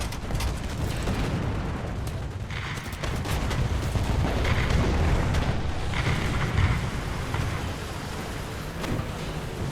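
Artillery shells land in a tank battle in War Thunder, a dense run of booming blasts and rumbling detonations that roll on without a break, with no pause between hits.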